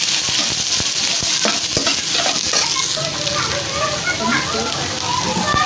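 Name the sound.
green chillies and onion sizzling in frying ginger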